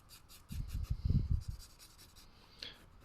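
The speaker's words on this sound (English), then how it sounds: "So I'm just putting a little bit of charcoal down on the paper just to see that that's there as well." Charcoal strokes scratch and rub across paper during a quick sketch of a foil sculpture, a run of short close scrapes clustered in the middle, then a fainter final stroke.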